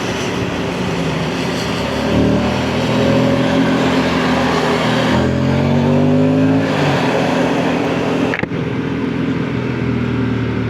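An Aprilia RS457 motorcycle ridden on the road from Srinagar to Kargil gives a loud, close engine note that rises and falls in pitch through several revs and shifts, with a sharp knock near the end.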